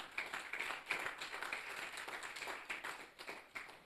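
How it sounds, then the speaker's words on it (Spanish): A church congregation claps in a loose, uneven rhythm, the scattered hand claps close and moderately quiet, with no talking over them. "¿Cuántos le pueden dar un fuerte aplauso al Señor?"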